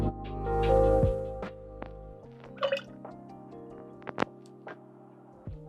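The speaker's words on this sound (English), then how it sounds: "We're gonna do 2 ounces of eggnog." Eggnog being poured into a dark-rum cocktail: a short liquid pour, then scattered light drips and small clinks in a quiet room.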